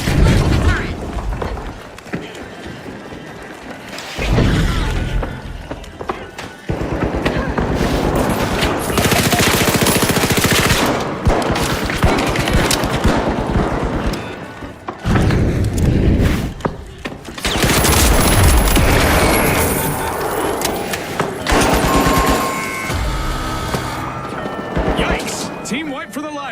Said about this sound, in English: Launching the turret.